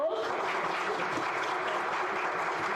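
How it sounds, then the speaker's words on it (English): An audience at a dialogue event claps for a deputy minister, a short burst of steady, moderately loud applause from many hands. "We can give him a round of applause."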